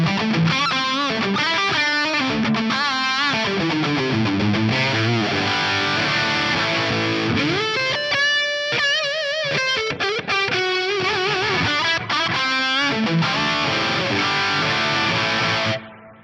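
Distorted electric guitar playing chords and melodic runs through an Axe-Fx with London Plate reverb, washed in a lush, spacious reverb, loud and continuous with no talking.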